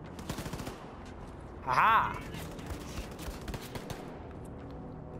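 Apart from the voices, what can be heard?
gunfire in Wolfenstein 2 video game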